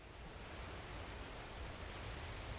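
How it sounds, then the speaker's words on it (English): Pouring rain in the video game Kikokugai - The Cyber Slayer makes a steady, dense hiss of downpour, even and unbroken throughout at a fairly low level, with no voices. "The powering rain washes over his coat like a waterfall."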